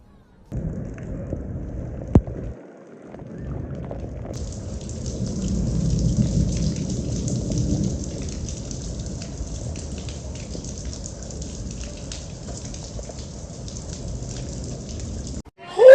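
Heavy rain pours steadily in a waterlogged city, a dense hiss that thickens after a few seconds, with low rumbling thunder underneath and a sharp crack early on.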